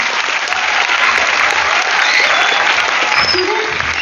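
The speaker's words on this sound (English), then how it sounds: "A big round of applause." An audience at a students' toppers' talk event in Ponda claps loudly and steadily, a dense, continuous round of applause filling the whole stretch without a break.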